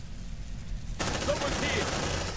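A sudden burst of sustained automatic gunfire in Aliens Dark Descent, laid down as suppressive fire, cutting in abruptly and staying loud and continuous, with faint game chatter in the background.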